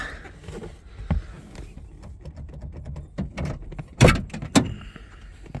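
Latches and handle clunks of a Corvette door being worked open, its handle missing key parts, giving a few sharp clicks and a louder double knock near the end over quiet background.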